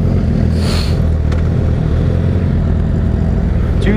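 A 2017 Honda CBR1000RR sport bike pulls hard under acceleration, a loud steady engine drone with heavy wind rush close to the rider, a brief higher whine midway, no talking.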